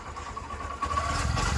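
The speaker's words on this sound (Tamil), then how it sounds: "இன்ஜின் ஒர்க்கை வந்து நம்ம பண்ணி முடிச்சிருக்கோம். வண்டியோட சவுண்டை பார்த்துங்க" A rebuilt Honda Shine 125 motorcycle engine idles close by with a steady low rumble and a faint whine, growing slightly louder halfway through.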